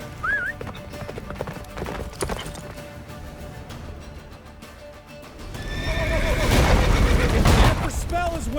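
In The Witcher 3, a horse gallops with rapid clip-clop hoofbeats, neighing and whinnying amid game music, rumbling booms and shouted character voices, growing louder and busier toward the end.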